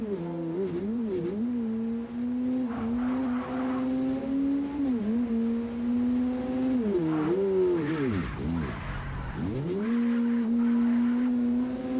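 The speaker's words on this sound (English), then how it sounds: "the humming is so loud of the car" A car engine in the video game MindsEye hums loudly and steadily throughout, its pitch rising and falling with revs, with a brief tire squeal and skid near the end.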